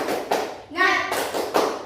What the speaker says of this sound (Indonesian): Oke, 1, 2, 3, tepuk semangat